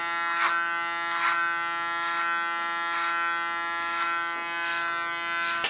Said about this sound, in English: In between you clean the clipper blades with your fingers, so don't small hairs stick in your knives